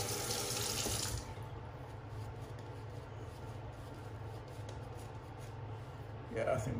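Tap water runs into a sink for a shaving lather, a steady broadband rush loudest for the first second then continuing softer and steady, with a brief louder splash near the end.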